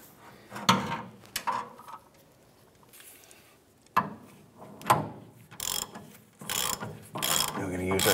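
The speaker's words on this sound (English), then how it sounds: "We're going to use our tool to pull our new bushing in." A press tool ratchets a new leaf spring shackle bushing into the frame of a 1994-2004 Chevrolet S-10, in uneven bursts of close, sharp mechanical clicks and clanks separated by short pauses.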